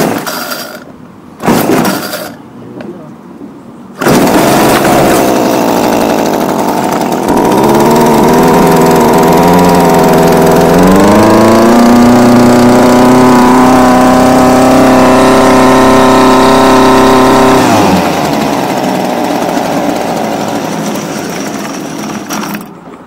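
A Homelite UT20042A string trimmer is pull-started with a few short cord yanks, then its small two-stroke engine catches and runs loudly and steadily, rising in pitch as it revs.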